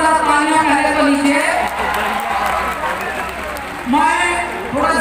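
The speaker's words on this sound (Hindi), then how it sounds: "तो इसके लिए जोरदार तालियां पहले तो लीजिए।" A large festival crowd at an outdoor concert bursts into loud applause and cheering, sustained clapping with shouts and whoops rising and falling over several seconds, a singer's held vocal tones ringing above the noise.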